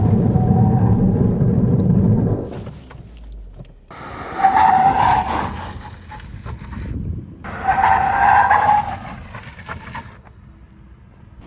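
A Maruti Victoris CNG car brakes hard from 100 km/h, with a loud engine roar that cuts off, then two separate bursts of tire squeal and skidding, each lasting a few seconds, and a quieter tail at the end.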